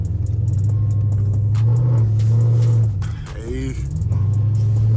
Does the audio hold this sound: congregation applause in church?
no